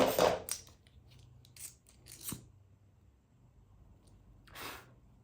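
Scissors cut crochet yarn with a few quick snips, close and fairly quiet, separated by silent gaps.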